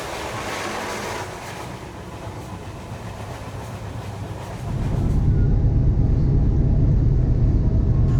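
Passenger train in India running on rails, a loud continuous rumble and rattle heard from inside, growing heavier and deeper partway through as the wheels roar steadily.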